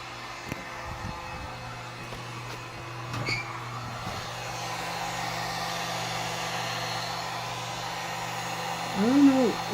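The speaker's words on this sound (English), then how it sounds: "we're heating the back of the board with this heat gun." A heat gun blows a steady, moderate whooshing hum while heating the back of a TV circuit board during repair, continuous throughout with faint clicks and handling noise.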